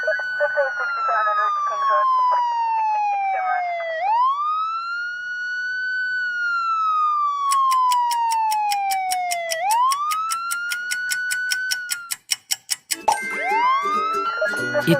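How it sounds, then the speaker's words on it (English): A police car siren wails loud and clear, sweeping down and then up in long cycles, with a rapid ticking pulse joining partway and a brief choppy break near the end. "It's a police car."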